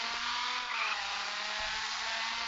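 A rally car races flat out, its engine a steady, loud roar with a broad rush of wind and gravel noise that holds without a break through the whole moment.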